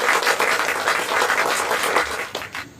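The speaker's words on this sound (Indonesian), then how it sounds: "Mari kita tepuk tangan dulu." A classroom of students claps in applause after a group discussion presentation, a dense, steady patter of many hands filling the room, then tapering off at the end.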